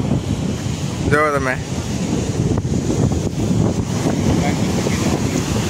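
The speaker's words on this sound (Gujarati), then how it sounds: "અવાજ થોડોક ઓછો આવતો હશે કેમ કે પવન વધારે આવે છે." Strong seashore wind buffets the microphone in a constant loud rumble, with a brief whistle-like tone early on and someone speaking briefly over it.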